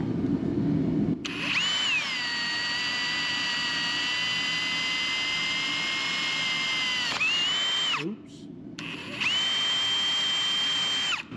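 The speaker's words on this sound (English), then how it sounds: "we're gonna finish drilling these" A power drill bores through the axle of a Jeep XJ, its loud steady whine holding for several seconds, dipping and stopping briefly, then starting again with the same sustained tone.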